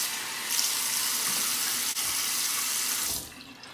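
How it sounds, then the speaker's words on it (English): Tap water runs steadily from a faucet into a sink while someone rinses their face after a wrong-handed shave, a continuous bright hiss lasting about three seconds before cutting off abruptly. "Now rinse your face with hot and then cold water."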